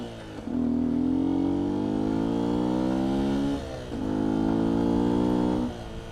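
A 2019 Beta 125 RR-S two-stroke dirt bike revs in two rising bursts, engine pitch climbing as it is ridden up and over a log on a trail, close and fairly loud with a short dip between.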